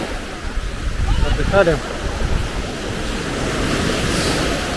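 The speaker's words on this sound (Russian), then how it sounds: "Сегодня приехали на пляж у реки. Тут черный песок." Surf washes steadily onto a black-sand beach at Ureki on the Black Sea, a loud continuous roar with wind buffeting the microphone, while someone speaks briefly near the start.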